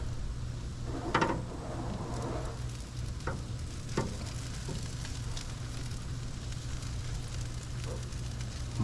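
Chicken wing drumettes sizzle on a grill close to the fire after flipping, a steady crackling hiss with a few sharp knocks and scrapes from the tongs.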